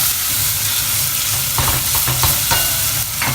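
Ginger garlic paste fries in a pan as a cooking step for matar paneer, giving a steady close sizzle with scraping stirs and a few brief clatters toward the middle and end.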